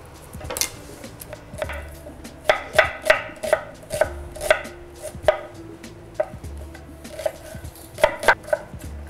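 A knife chops ingredients on a cutting board in uneven bursts of sharp, close knocks, with clusters of rapid strikes broken by short pauses and faint kitchen clatter.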